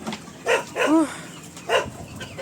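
A dog barks nearby while chickens are being fed, giving a few short, fairly loud barks spread over a couple of seconds against faint background noise.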